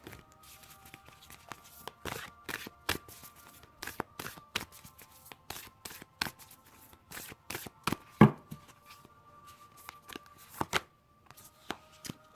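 Tarot cards are shuffled by hand, giving quick papery riffles and slaps in irregular bursts, close and moderately quiet, with a faint background hum and no speech.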